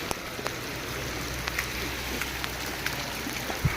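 Heavy rain pours down with water running and flowing, a constant hiss of drops and splashes with a few sharper drips standing out.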